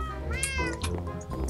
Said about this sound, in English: Bionic, you have so many cats.